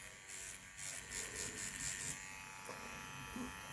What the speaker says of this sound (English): It does have a cordless motor.